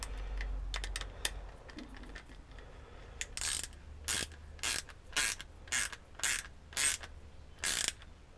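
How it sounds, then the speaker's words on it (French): A nut being tightened with a ratchet wrench over a large washer on a DIY clamp arm, with quick clicking ratchet bursts at first, then a regular series of louder, close rasping ratchet strokes. "clé pour serrer"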